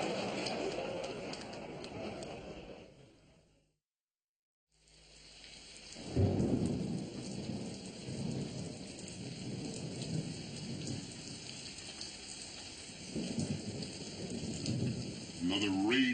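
Steady rain falls with rolling thunder, a dense wash of sound that briefly cuts to near silence before the downpour and deep rumbles return and build again, with no talk.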